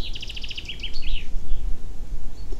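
Small birds chirp in a quick, bright run of repeated notes over the first second or so, then trail off, leaving a low, steady background rumble.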